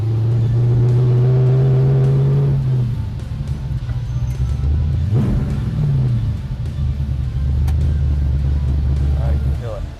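Restored Ford SEMA show car on air ride driving by, a loud close engine drone with rising and falling revs, while people talk over it.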